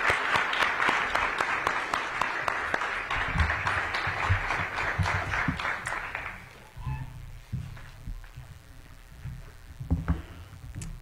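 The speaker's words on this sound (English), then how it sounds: "Please give a round of applause for Councilmember Brooke Pinto." A seated audience at a downtown civic planning meeting applauds briskly and loudly, then the clapping thins out and gives way to scattered room noise and faint murmurs.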